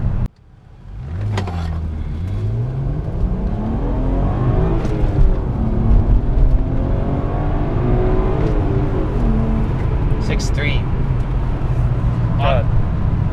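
A Cobb Stage 1 BMW 335i launches on a 0-60 run, engine revving and pulling with rising, wavering pitch as it bogs, loud and close inside the car, with people talking over it.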